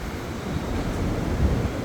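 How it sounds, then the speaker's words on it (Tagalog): Steady, broadband wind noise gusting against the microphone on a city-centre main street in Sydney's CBD, a constant low rumble and hiss with no speech. "Malakas ang hangin guys."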